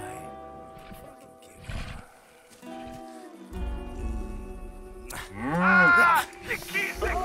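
Cow in the video game Just Cause 3: a loud, drawn-out bellowing moo near the end, after scattered game sounds and noise, with no talking.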